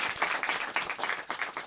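A brief burst of audience clapping, uneven bursts of hand claps at moderate volume lasting under two seconds.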